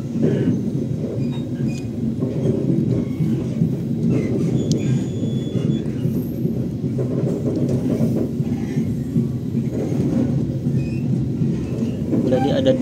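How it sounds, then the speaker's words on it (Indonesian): Gaya Baru Malam Selatan passenger train rolling steadily along the rails, a continuous loud low rumble of wheels and carriage noise with faint clicks, heard from on board. "Kereta api gaya baru Malam Selatan mengambil jalur sebelah kanan"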